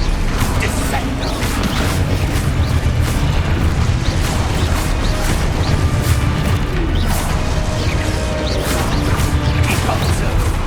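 Descendo spell effect in Hogwarts Legacy combat, a dense, loud roar of magical crashes, booms and impacts that goes on without letup amid battle noise.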